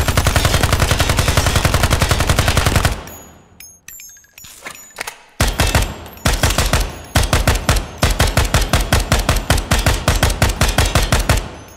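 AKM rifle firing in the video game Ground Branch: a long, loud sustained automatic burst, a short pause with a few scattered shots, then repeated rapid bursts and quick single shots close by, with no talk.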